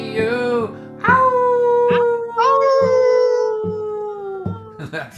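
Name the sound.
dog howling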